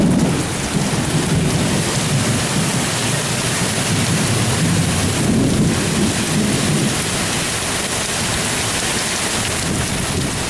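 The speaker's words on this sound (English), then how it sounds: "it's raining so hard you can't even see anything" Very heavy July downpour with thunder, a dense, loud, continuous roar of rain on surfaces filling the whole stretch with a low rumbling undertone, and no voices.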